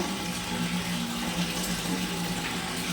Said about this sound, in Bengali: তো এইদিকে ফিল্টারে এই ওখানে জলটা ভরুক।